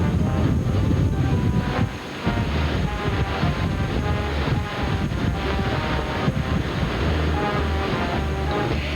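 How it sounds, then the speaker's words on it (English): Strong wind buffets the microphone outdoors in Mobile, Alabama, ahead of an approaching tropical storm, a loud continuous rumbling rush with steady gusting and no voices. "it's quite windy"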